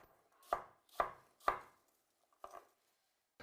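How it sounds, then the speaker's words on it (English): A knife chops apples on a board for apple crumble: three sharp, evenly spaced cuts, a pause, then two quieter chops and a faint final tap, close and isolated. "Okay, the apples are cut."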